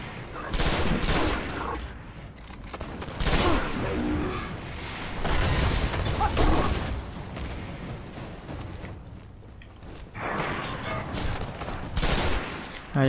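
Gunfire in Destiny during a firefight in the Garden's Spire, repeated bursts of loud shots and explosive booms in clustered volleys with brief quieter gaps between them.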